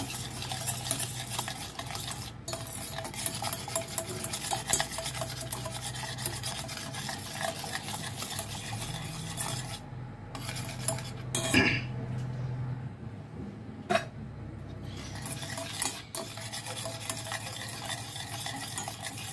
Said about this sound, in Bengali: এটা এখন অনবরত নাড়বো, নাড়া কিন্তু একদম ছাড়বে না এটাকে।